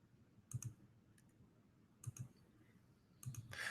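Computer mouse clicking in three quick pairs of crisp, close, quiet clicks spaced about a second and a half apart, with no talking.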